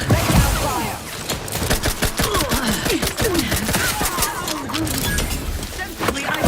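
Sustained gunfire rattles in The Outer Worlds 2, a continuous fusillade of quick shots layered with game sound effects and a voice speaking over the combat.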